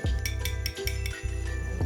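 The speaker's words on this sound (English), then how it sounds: "Now I'm gonna throw a few ice cubes in and stir it up a bit." Ice cubes knock and clink against a rocks glass in a short series of bright, close taps, with a low steady background hum underneath.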